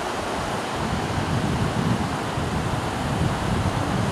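Steady, full-bodied wash of sea surf and wind on the Riga seaside coast at Jurmala, a continuous roar with no breaks, and no one talking.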